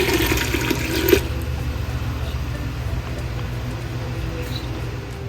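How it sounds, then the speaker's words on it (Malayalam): Water pours noisily into a pressure cooker of wheat for payasam for about a second, then a softer continuous watery hiss carries on underneath. "ആവശ്യത്തിനുള്ള വെള്ളം ഒഴിച്ച് കൊടുക്കുക"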